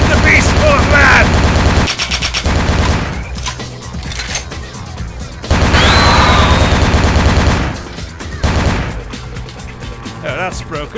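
Gunfire bursts out in Vampire: the Masquerade - Bloodlines, loud repeated shots and rapid volleys in several clusters, with an excited voice shouting over the combat.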